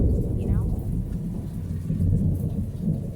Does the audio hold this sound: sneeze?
no